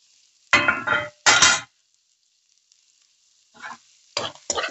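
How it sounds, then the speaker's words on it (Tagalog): Onion and garlic frying in a pan are stirred with a utensil, giving short bursts of sizzling and scraping separated by quiet pauses, close and fairly loud, with a final cluster of stirring strokes. "halu-haluin lang natin para hindi siya masunog"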